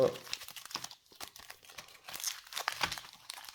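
Thick Topps Chrome trading cards being shuffled by hand, giving close, irregular crinkling and flicking bursts, with a person talking over the card noise.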